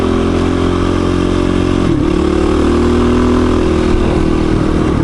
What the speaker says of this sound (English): We'll follow him up this gravel road here, and we'll see how the Super Moto does on the gravel.